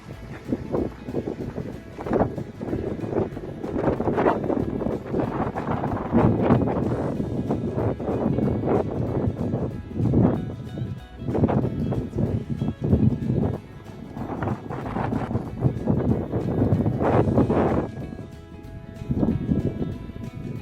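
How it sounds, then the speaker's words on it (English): Gusts of strong wind blow across a birding trail near Canon City, Colorado, surging and easing in loud rushing bursts that batter the microphone with low rumble. "It's really windy today"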